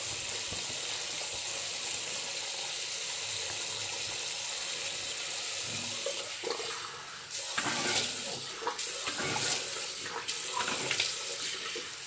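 Water runs steadily from a tap, then splashes and gurgles in bursts as hands cup and rinse, no voices.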